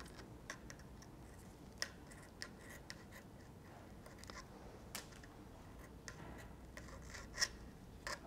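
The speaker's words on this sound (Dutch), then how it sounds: "Zo knip ik haaks op." Scissors snip through bicycle handlebar tape at the handlebar, cutting it straight across. Faint, sparse clicks and snips come close-up with irregular gaps over several seconds, and the loudest cut falls near the end.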